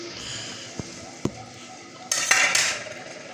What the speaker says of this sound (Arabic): هننزل الخضار، هننزل الفلفل